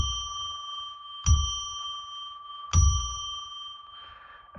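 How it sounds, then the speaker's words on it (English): A bell rung to open a psychic reading session on live radio, struck twice a second and a half apart, each strike leaving a clear, sustained ring that fades slowly in a quiet room. "I'm going to ring a bell now to declare a sacred space."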